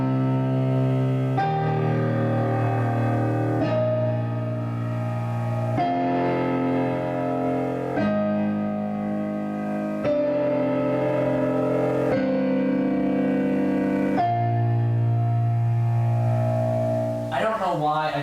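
A piano plays the choir part of the Shin Gojira theme in simplified form, holding one low left-hand note under slow sustained chords that change every couple of seconds, steady and alone.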